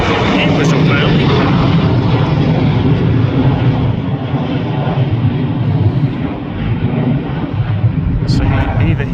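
Airplane at Manchester Airport, likely a light aircraft on an early positioning flight, roaring loud and steady throughout with a broad engine rumble that fades slightly midway.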